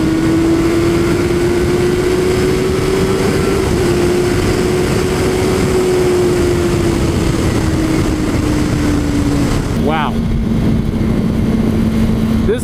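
A 2017 Honda CBR 1000RR motorcycle at speed in third gear, a loud steady engine drone with heavy wind rush, pitch holding level and then dropping slightly near the end.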